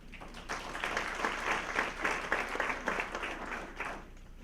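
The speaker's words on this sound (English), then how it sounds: "I appreciate you clapping too for the Nordic ski team" Audience in a school district hall applauding the boys and girls Nordic ski teams, a steady burst of many hands clapping for about four seconds before tapering off.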